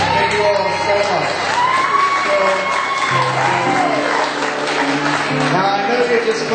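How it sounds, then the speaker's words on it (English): Theater audience applauding and cheering after a corporate sponsorship event, a dense steady wash of clapping with scattered whoops and crowd voices, sustained and fairly loud throughout. "Now I know you're just clapping because you want me to leave"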